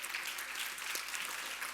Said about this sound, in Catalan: Un fort aplaudiment també per elles.